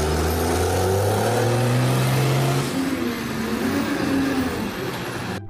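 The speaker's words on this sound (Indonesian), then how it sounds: "Wah, kita mendapatkan truk sampah" Toy garbage truck making a loud, steady engine-like rumble with a rising rev, then easing off a little toward the end.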